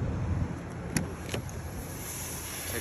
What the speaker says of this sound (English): It'll unlock all the doors for you.